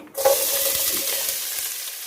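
Mustard seeds and a chopped ingredient drop into hot oil, bursting into a sudden loud hissing sizzle that holds steady and close, slowly easing off toward the end.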